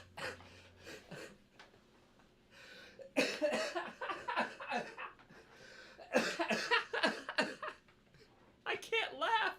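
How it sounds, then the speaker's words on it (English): A person has a coughing fit, with harsh, repeated hacking bursts in irregular clusters, close and loud, broken by short gasping breaths. "Record the coughing."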